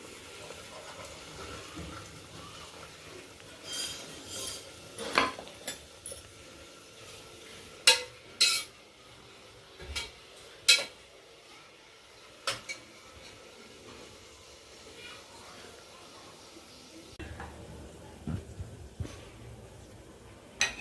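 Onion pieces and green chillies frying in a pan for a mutton keema curry give a quiet, steady sizzle, broken by repeated sharp scrapes and clinks of a spoon stirring the pan at irregular intervals, with no one talking.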